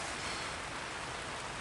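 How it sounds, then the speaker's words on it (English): Rain falls steadily outside, a soft, even hiss of drops with no other sounds. "It's raining outside again."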